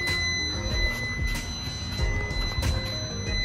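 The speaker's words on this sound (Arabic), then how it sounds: "صوت الزنان ده صوت النور من هنا." A steady electronic warning tone sounds inside a 2017 Nissan Sunny N17 when the headlights are left on. The constant buzzing pitch is heard alongside low rumbling and handling noises in the cabin.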